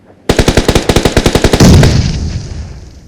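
Rapid automatic gunfire in the video game PUBG, a loud close burst of about fifteen evenly spaced shots followed by a heavier blast that trails off into a fading echo.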